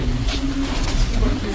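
Kamgar pigeons kept by a fancier in Rawalpindi coo in low, soft, rolling notes, close and fairly loud, over a busy background.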